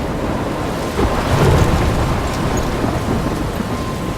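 A thunderstorm with heavy rain in the game Life is Strange: a dense, steady wash of rainfall with a low rumble of thunder swelling near the start, loud and continuous throughout.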